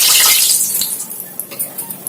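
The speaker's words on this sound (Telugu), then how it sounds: "వాటర్ అయితే అప్లై చేసుకోండి" Water is spread by hand over a plastic cover while making vadas, a wet splashing swish at first that thins into faint, irregular dabbing and dripping sounds.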